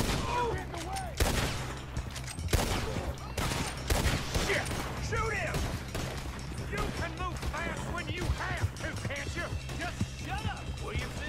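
Gunfire crackles through a Red Dead Redemption 2 shootout during a robbery getaway, with repeated sharp shots, some near and some farther off, and voices shouting and talking over the fighting.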